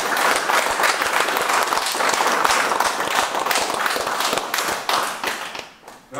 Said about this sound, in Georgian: აპლოდისმენტები მიიღეთ.